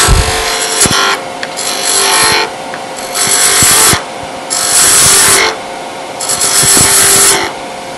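Woodturning gouge on a spinning wooden sphere blank at the lathe, cutting off the end piece: repeated loud, rasping cutting bursts of about a second each, separated by quieter gaps of the lathe running, close up.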